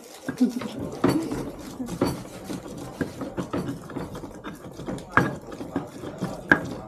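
A stone mortar and pestle grinds ingredients for a local dish, with irregular knocking and scraping strokes close by, while people talk over the work.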